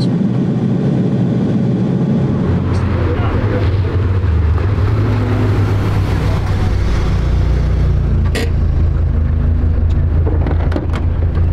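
An Abarth car rolls into the pit lane at the Bilster Berg track, its engine droning loud and close with shifting low tones while people talk over it.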